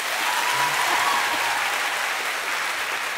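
A live audience of around 600 people at a French anecdote-guessing show bursts into dense, sustained applause as a vote, loud and steady throughout with a faint crowd murmur underneath.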